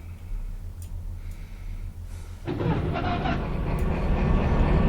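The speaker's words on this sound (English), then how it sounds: "our locomotive is running" Locomotive running in the Derail Valley video game, starting as a low idle hum and then jumping to a louder, fuller engine rumble that holds steadily to the end.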